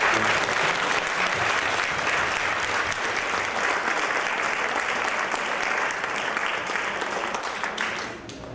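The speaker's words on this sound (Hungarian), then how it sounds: "Egy tapsal!" A crowd at a school year-end and graduation ceremony claps steadily in sustained, dense applause that fades slightly at the very end.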